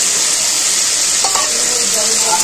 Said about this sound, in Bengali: দিয়ে একসাথে ভালো করে সব কষিয়ে নেব